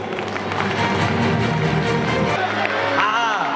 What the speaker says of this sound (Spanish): Arriba, las rápidas, fuerte aplauso.